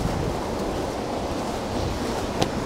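Waterfall along an old railway right of way near Mount Hope, West Virginia, a steady broadband rush of falling water, moderately loud and continuous, with no speech.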